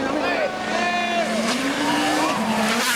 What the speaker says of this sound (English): we are going to watch some pretty awesome rally jumps